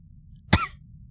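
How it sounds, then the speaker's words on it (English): A single sharp cough performed by a human reader voicing a pony character, one short loud burst standing alone against a quiet background. "She coughed into a hoof"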